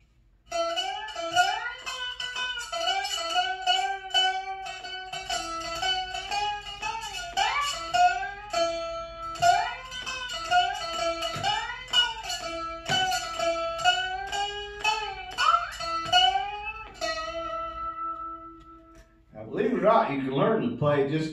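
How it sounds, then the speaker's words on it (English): A homemade one-string guitar built from a pork and bean can plays a simple twangy melody with sliding, bending notes. It is fairly quiet and close, and a brief noisier sound follows at the end. "You can learn to play just about anything on this one string pork and bean guitar."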